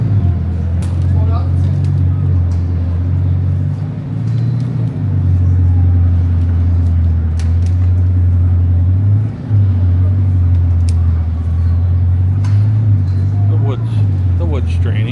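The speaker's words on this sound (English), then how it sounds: "Get your Bugatti up on the platform there." A Bugatti creeps up wooden ramps onto a display platform at the SEMA show in Las Vegas, its engine a deep steady rumble throughout with brief dips, while people talk nearby.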